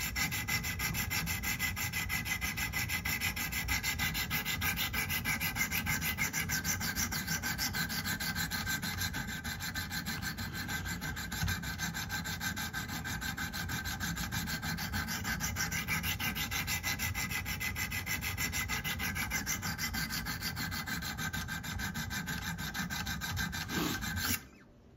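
Kitchen knife drawn back and forth over a sharpening stone, a continuous close gritty rasping scrape that runs steadily for about twenty-four seconds before stopping abruptly, with no talking.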